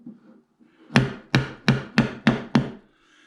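Six firm blows on wooden planing stops in a workbench, spaced roughly a third of a second apart, each a sharp, loud wooden thwack that rings briefly.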